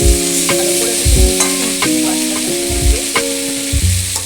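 Pasta being stirred into spice paste frying in a pan, loud and close, with a steady sizzle broken by repeated scraping strokes of the spoon roughly every half second, no voices.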